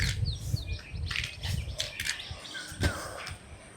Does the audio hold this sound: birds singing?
yes